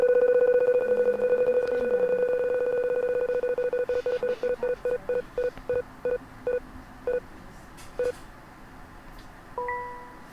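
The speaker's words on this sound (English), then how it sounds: "the wheel is about to spin. Here we go. Spin number 1." A prize wheel spinning sound effect plays as a rapid run of ticking beeps that slows steadily, the clicks spacing out more and more until a final tone sounds as the wheel stops.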